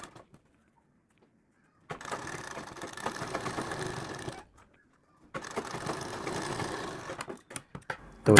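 A sewing machine stitches piping along a fabric sleeve edge in two steady bursts of rapid, close mechanical whirring, separated by short pauses of near silence.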